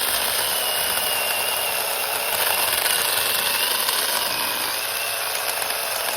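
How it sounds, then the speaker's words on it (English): A $30 Saker mini chainsaw with a 4-inch bar cuts through wood, its small engine buzzing in a loud, steady, high-pitched whine that holds without a break from start to finish. "what do you say we go use this saw? So you can see it cuts through pretty quick."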